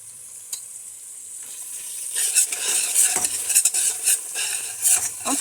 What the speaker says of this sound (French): Vous tournez aussi le piment jusqu'à un petit temps